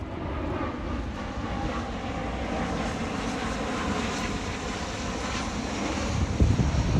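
Steady broadband engine roar of an airplane passing overhead, with some wind buffeting the microphone throughout.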